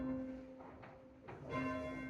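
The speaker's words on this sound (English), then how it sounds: "by the time it comes into view, it's already hit the side of the bell" A church bell at St Johns-at-Hackney struck by its clapper, two clear strikes with long humming tones ringing on between them, heard from nearby over a low background.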